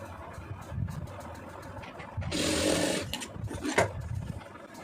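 Sewing machine stitching blouse pieces together, a steady mechanical whir running for about a second before stopping, with someone speaking before and after.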